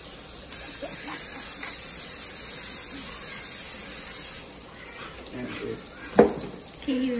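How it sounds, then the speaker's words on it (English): Butter spray hisses onto a breakfast pan in a few short bursts, with a steady hiss underneath and occasional clatter and sizzle, up close. "And then we're gonna spray more butter."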